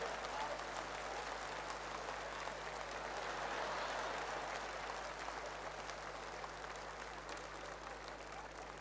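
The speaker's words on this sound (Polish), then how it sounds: "wielkie brawa!" Sustained applause from an audience at a stage performance, greeting a performer called Pani Leokadia Wygódka. It sounds fairly faint and distant, a continuous wash of clapping over a low steady hum.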